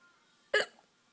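A single sharp hiccup from an adult, one short loud burst standing alone in a quiet room with no talking.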